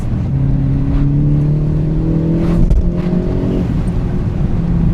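A tuned Mk7.5 GTI engine revs and accelerates close by, its intake roaring with a rising drone, then a quick dip as it shifts and pulls again.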